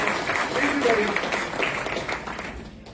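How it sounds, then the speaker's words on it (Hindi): Applause breaks out for a man at the Chak Dhey Boot Camp, a dense wash of clapping from an indoor audience that stays steady for a few seconds and thins at the end. "क्या बात है सर, के लिए तालियां।"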